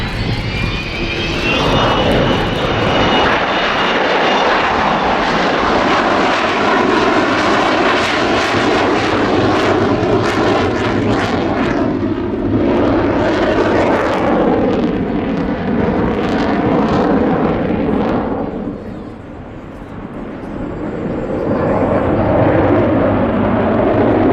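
Avro Vulcan XH558 bomber's jet engines roar loudly and continuously through a flying display at Yeovilton 2015, the thunderous rumble swelling and easing as the aircraft passes, with a short dip before rising again.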